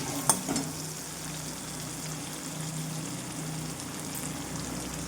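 Ginger and cumin powder fry in a pan for a vegetarian potol korma, giving a steady, even sizzle close by. A couple of brief stirring clinks come near the start, and nobody speaks.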